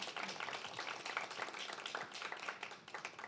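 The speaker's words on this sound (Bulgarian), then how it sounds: "Аплодисменти за доктор Калинкова." Audience applause for a doctor, scattered clapping from a small crowd, faint and brief with rapid uneven hand claps.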